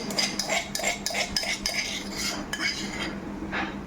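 A spoon stirs ginger, chili and garlic paste into golden fried onions in a pan, giving a run of quick, sharp metallic clinks and scrapes in an uneven rhythm, close and clear, with no talking.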